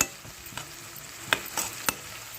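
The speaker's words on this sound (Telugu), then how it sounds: "ఇలా వేయించేసుకోవాలండి." Food frying in a pan while being stirred, a steady low sizzle broken by a few sharp scraping clinks of the utensil, close by with no speech.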